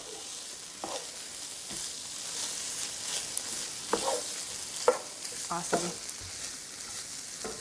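Sausage and yellow onions sizzle in a pan as a utensil scrapes and stirs at uneven intervals, a low steady frying hiss beneath the knocks, with a brief spoken word.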